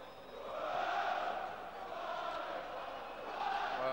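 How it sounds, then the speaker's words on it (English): Stoke City supporters at the Victoria Ground chanting during a 1995 league match against Port Vale, a massed crowd roar heard from a distance, swelling and ebbing with sung chants throughout. "fans dominating the noise here at the Victoria Ground."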